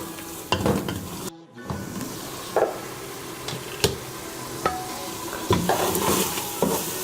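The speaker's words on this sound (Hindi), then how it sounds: "मसाला हमारा रेडी हो चुका है। अच्छी तरह अब हम इसको भून लेंगे।" Tomato masala for daal mash frying in a pan, a loud continuous sizzle broken by repeated scraping stir strokes and spoon knocks, with one brief dropout.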